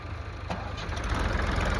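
A tractor engine runs close by with a steady, low, pulsing chug that holds for under two seconds, with no voices over it.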